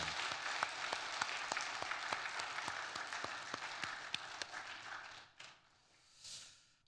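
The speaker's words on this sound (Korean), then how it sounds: "우리 다 같이 이분들의 수고를 격려하는 의미에서 큰 박수로 격려하도록 하겠습니다." A congregation at a Korean New Year worship service applauds, a soft, distant patter of many hands with sharp claps standing out, which dies away near the end into near silence.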